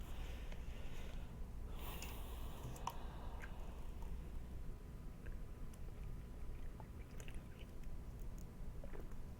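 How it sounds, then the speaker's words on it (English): A man sniffles repeatedly during a Magic: The Gathering match. Short nasal snorts come up close amid scattered clicks and faint handling noise over a constant low background hum. "I want to apologize about me sniffling all the time."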